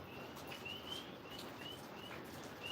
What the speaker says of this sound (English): listening to those tree frogs.